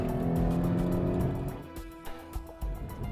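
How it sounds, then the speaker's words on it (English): A Hyundai Genesis Coupe V6 engine and exhaust rumbling loudly up close, with a deep growl that eases off partway through and then pulses with short revs. "I really admire the way Hyundai's tuned the exhaust on this V6."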